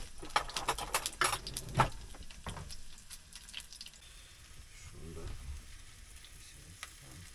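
Oil sizzles and crackles steadily in a pan over a gas camp stove in a caravan by a lake, with bursts of spattering and a few clattering knocks near the start, then a softer continuous hiss.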